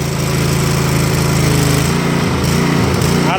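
A small gasoline engine drives a 5.2 gpm pressure washer with its valve closed, running close and loud with a fast, steady chug that shifts slightly in tone partway through.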